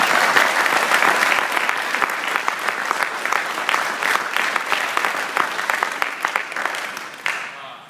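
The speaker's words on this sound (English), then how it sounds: "I think our instructors up here deserve a big round of applause" An audience applauds its instructors with dense, steady clapping that holds strong for most of the stretch and begins tapering only near the end.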